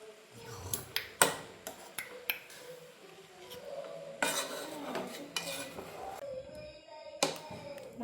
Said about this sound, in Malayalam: നമ്മൾ കുറച്ച് നല്ലോണം ഒന്ന് ഇളക്കുക കേട്ടോ